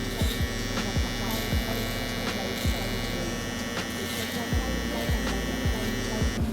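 Electric clippers trim a man's beard line in a barbershop, giving a steady, close buzz with repeated short strokes as the blades pass over the hair.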